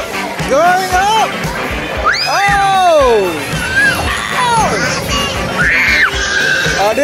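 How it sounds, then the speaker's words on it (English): A child screams again and again on an amusement ride at Legoland. The shrill, rising and falling cries are loud and close, and adults talk and exclaim over them amid a noisy crowd. "Oh, he's screaming again."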